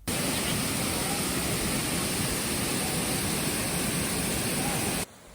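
Krok I Dok waterfall in Saraburi pours steadily, a loud, even broadband rush of falling water that holds constant for about five seconds before cutting off abruptly.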